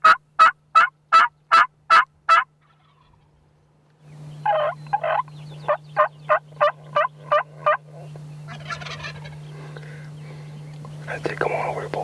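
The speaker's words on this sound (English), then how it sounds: "We got a bird gobbling 100 yards away." A wild turkey gobbles at roughly 100 yards in Texas hunting country, a rapid burst of sharp clucking notes repeated in several rounds, loud and clear, with a low steady hum underneath and soft whispering between calls.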